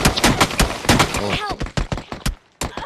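Gunfire in an online multiplayer shooter, with rapid close bursts of shots in quick succession and a brief pause near the end, while players' voices come through faintly underneath.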